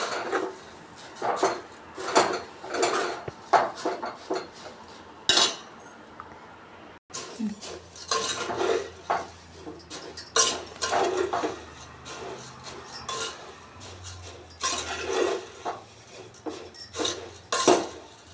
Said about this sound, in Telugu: ఇలా మంచిగా కలుపుకోవాలి ఫ్రెండ్స్